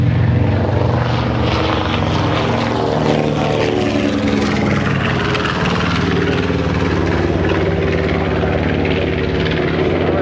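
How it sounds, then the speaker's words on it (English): Piston engines of a restored Boeing B-29 bomber drone steadily and loudly from inside the aircraft, a dense continuous roar with layered harmonic hum and no break throughout. "these engines are much more reliable as compared to the older B-29 engines"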